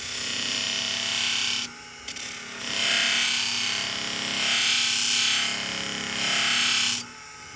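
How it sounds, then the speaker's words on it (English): A brush scrubs the burr off a freshly sharpened hair shear blade, producing a loud, steady hissing rasp in long strokes with a brief pause near the start and another near the end. "Give it one more light brush. Just want to make sure we get all that burr off."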